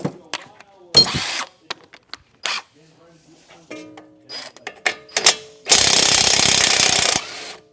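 Loud tools work to separate the steering knuckle on a Ford Fusion, with sharp metallic strikes and ratcheting bursts that build to a long, sustained hammering near the end, mixed with short spoken remarks.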